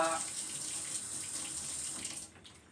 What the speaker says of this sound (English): I got really hot tap water